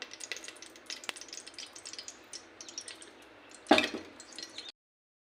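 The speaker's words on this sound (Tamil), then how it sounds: "பின்னாடி நான் வந்து ஆயில் சேர்த்துக்கிறேன் கொஞ்சமாக." Oil goes into a hot pressure cooker pot already holding ghee, setting off a quiet spitting sizzle with scattered drips and crackles, then a sudden louder hiss burst before it cuts off.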